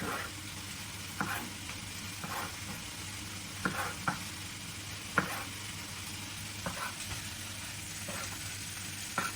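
Halved cherry tomatoes fry in a pan with a soft, steady sizzle, punctuated by occasional stirring clicks and scrapes, fairly quiet and with no talking.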